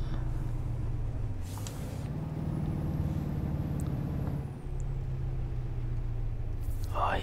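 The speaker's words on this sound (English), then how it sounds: "Put a bit of engine braking on." A heavy truck hauling a huge tank in Euro Truck Simulator hums with a steady low engine drone under engine braking, the pitch shifting slightly partway through, with a brief hiss near the end.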